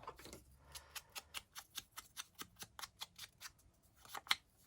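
Scissors used on paper for junk journal ephemera give a quiet, steady run of about a dozen evenly spaced crisp clicks, close and alone, with one sharper snap near the end.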